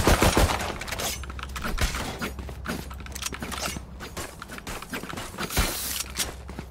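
Dense bursts of rapid gunfire from a tactical shooter video game, loud and continuous with mechanical clatter throughout, no talking.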